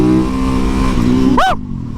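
Superbike motorcycle engine revving hard and steadily while the rider spins donuts and pulls wheelies, loud and close, with a rising whine sweeping past near the end before the roar drops off.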